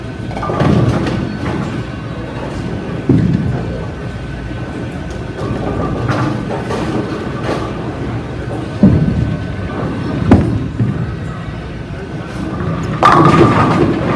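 At a bowling match, a ball rolls down the lane and crashes into the pins, heard as a low rumble broken by several sharp impacts, the loudest near the end, with commentators talking and crowd noise.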